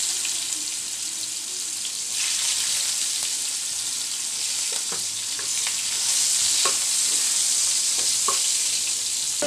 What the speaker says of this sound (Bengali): এবার পেঁয়াজটাকে একটু হালকা ভাজা করে নিব।